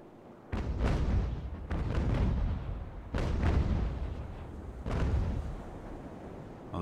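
Broadside cannon fire of solid shot from sailing warships in the Ultimate Admiral Age of Sail naval battle game: four heavy booming volleys, each rolling and rumbling off over a couple of seconds, with no talk.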